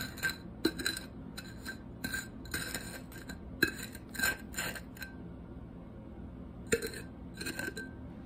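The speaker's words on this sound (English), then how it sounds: "go ahead and take the glass and stir it around." A glass rim is stirred in salt on a plate, making repeated gritty scraping bursts with small clinks of glass on the plate. The scraping is close and comes in uneven strokes separated by short pauses.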